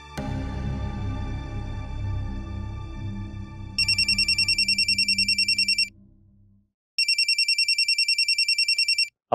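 A telephone ringing during a call: two long bursts of rapid electronic trilling, separated by a short pause, following a low musical passage that fades out.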